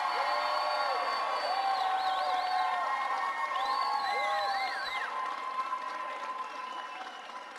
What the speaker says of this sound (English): Now, I want you to listen to the crowd and just listen to how nobody cares that he's there.